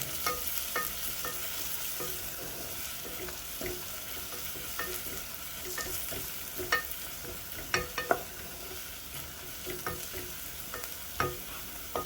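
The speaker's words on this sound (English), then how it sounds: "Next, I'll go in with a little turmeric. And mix everything together." Turmeric being stirred into a thick beans stew in a pan, with a steady sizzle and frying hiss under repeated scraping and clinking strokes of a spoon, close and clear.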